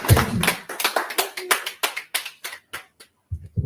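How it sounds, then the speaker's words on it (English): Audience applause at a press conference: a burst of clapping that thins into scattered, distinct claps over a few seconds, moderately loud and close, with a brief gap before a couple of final claps. "Please another round of applause for His Excellency."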